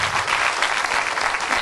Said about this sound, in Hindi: जोरदार से तालियां बजाएंगे